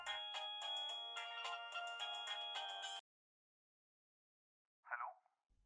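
A cheerful melodic phone ringtone for an incoming call plays loud and steady for about three seconds, then stops; a short chirp follows later.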